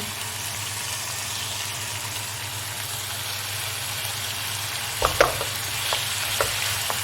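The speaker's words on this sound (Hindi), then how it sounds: "और तकरीबन 2 से 3 मिनट इसको भूनेंगे" Spinach and fenugreek frying in a pan for turnip chicken gravy, a constant soft sizzle with a few sharp stirring clacks near the end, and no one speaking.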